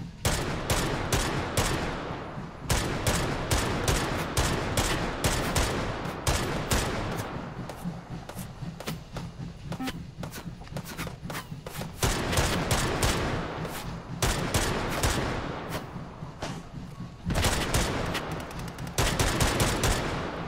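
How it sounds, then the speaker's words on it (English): Gunfire from skeet shooting in the VR game Hot Dogs, Horseshoes & Hand Grenades rings out as rapid, loud bursts of repeated shots separated by short pauses, with no talking. "Did a little bit of skeet shooting there."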